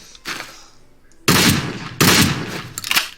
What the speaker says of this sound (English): Stevens double barrel, but with a sawed-off barrel. So here we have our sawed-off shotgun.